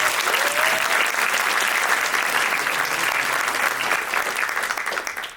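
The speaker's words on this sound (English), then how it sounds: "let's give them a round of applause" Audience applause at a movement update gathering, a sustained dense wash of clapping from a large crowd that holds steady for about five seconds, with a brief whoop early on, then tapers at the end.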